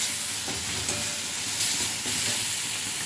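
Cumin powder being stirred into a Bengali fish curry (sankar fish kosha) in a hot pan, giving a steady, fairly loud sizzle with faint scraping of the spoon throughout.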